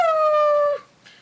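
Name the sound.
dog howling and whimpering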